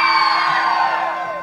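A lively crowd at a contest show cheers, whoops and yells in a loud, sustained burst that tapers off slightly toward the end.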